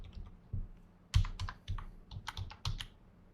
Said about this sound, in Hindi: मेरा कीबोर्ड थोड़ा बैड बिहेव कर रहा है